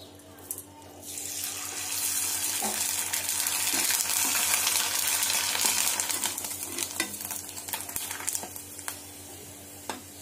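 Oil heats in a pan for frying sabudana and gives a broad, steady sizzling hiss that swells in the middle, with faint clinks and kitchen noise around it.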